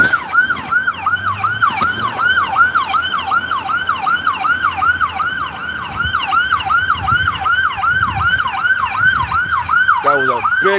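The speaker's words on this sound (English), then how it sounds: "Oh, we got sirens and shit, man." Emergency vehicle sirens wailing loudly and continuously in a rapid rising-falling pattern with traffic rumble underneath, heard from a passing car near the scene of a big accident; another siren tone joins briefly near the end.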